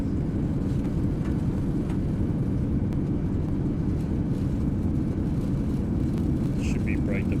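Airbus A350-900 reverse thrust after touchdown in Microsoft Flight Simulator 2024: a steady, loud low-frequency jet roar that holds unbroken across the whole stretch, with faint higher tones flickering near the end.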